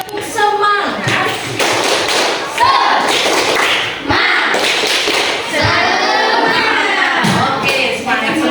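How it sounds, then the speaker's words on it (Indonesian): Audience in a school coaching session performing a rhythmic spirit clap, patterned bursts of clapping and thumps in quick sequence, with voices chanting and talking throughout. "aku minta tepuk semangat"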